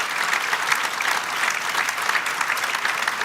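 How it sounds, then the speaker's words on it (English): A crowd at a church 9/11 memorial service applauds the South Meriden Fire Department, a loud, dense and steady burst of many hands clapping throughout. "Let's have a big round of applause for our friends at the South Meriden Fire Department."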